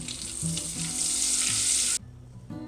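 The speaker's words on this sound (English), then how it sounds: "And then I'm going to stir this in so that it is melted as well." Peanut butter and chocolate get stirred in a pan over medium gas heat, a close bright sizzling scrape that cuts off abruptly, followed by quiet and a brief clink.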